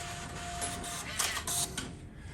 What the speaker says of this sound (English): use the test print button on the side of the printer circuit board to print a test receipt